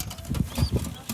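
A pigeon gives a few quick bursts of wing flapping, close and fluttery, amid rustling and faint background voices.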